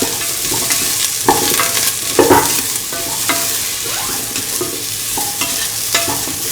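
A spoon stirs cauliflower and bottle gourd stew with garlic and salt in a frying pan, giving repeated scraping knocks over a steady sizzle, close and loud, with no talk.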